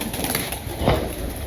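A pigeon gives one short, soft coo over steady background noise.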